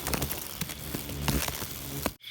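Rain begins falling outdoors at night during a hunt for june beetles, a scatter of close, crisp drops pattering irregularly on surfaces before cutting off abruptly near the end.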